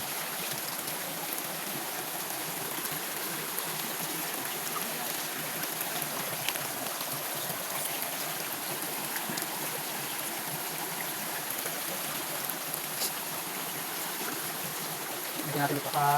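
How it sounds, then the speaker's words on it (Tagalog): A strong river current rushes continuously outdoors, a broad steady wash of flowing water with no break, moderately loud and unchanging. "Malakas yung agos ng tubig."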